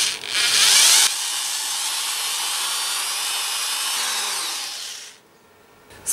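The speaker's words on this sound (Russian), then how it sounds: "В одной из стенок корпуса сверлю отверстие диаметром 5 мм." An electric drill bores a 5 mm hole in the wall of a plastic case, a loud steady high whine that runs for about four seconds before cutting out, with no talk.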